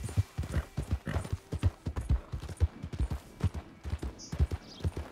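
Horse hooves clip-clop at an even walking rhythm in Red Dead Redemption 2, close and distinct, with a short high tone near the end and no talk.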